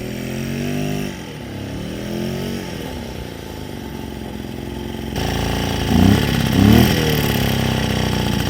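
Small two-stroke engine of a restored Raleigh Wisp moped, running steadily during running-in, a continuous close buzzing idle that rises in pitch and loudness with a couple of brief revs near the end.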